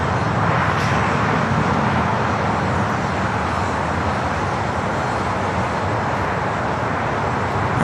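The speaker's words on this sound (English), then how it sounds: "we do have that United at 787-10 Dreamliner now rolling down at 25 at right" A United Boeing 787-10 Dreamliner rolls down runway 25 Right at LAX on its takeoff run, giving a loud, steady, broad jet engine roar that holds even throughout.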